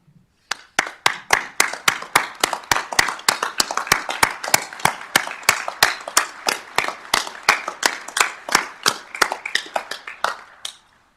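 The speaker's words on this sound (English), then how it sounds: "we'd like to give you all a round of applause" Applause rings out at a diversion inlet structure dedication ceremony. The clapping is crisp and evenly paced, close to the microphone and steady for about ten seconds with no speech.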